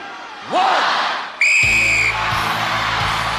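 A referee's whistle sounds at the start of an International Gladiators event, one loud, steady blast of about half a second, with crowd noise and shouting in the arena before and after it.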